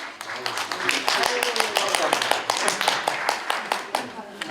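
Applause at the 2024 Art Korea culture and arts awards ceremony, a run of sharp, uneven claps from a modest audience over about four seconds, with a low voice murmuring beneath.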